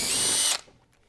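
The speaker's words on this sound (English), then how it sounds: "I'm going to drill the holes and attach them." A power drill bores holes in a Hobie Outback kayak during an H-bar installation, a loud, close, high whine lasting about half a second before cutting off abruptly into quiet.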